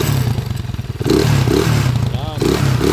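A 200cc motorcycle with a five-speed transmission runs in a repair shop, its low, steady engine drone pulsing throughout while someone talks over it, with a few light clatters.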